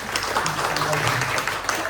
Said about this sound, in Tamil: அதுக்காக எல்லாருக்கும் நீங்கள் எல்லாரும் கைத்தட்டு கொடுத்தீங்கன்னா